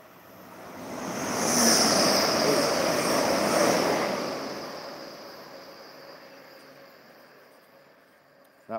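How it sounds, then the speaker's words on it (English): A train rumbles through a station, swelling to a loud hiss with a high metallic whine, then fading away into quiet. "That was the train I was talking about."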